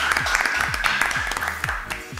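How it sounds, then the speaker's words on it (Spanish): Dense applause from a church congregation, steady clapping that holds for a couple of seconds and then begins to taper off. "Un aplauso para nuestro Padre"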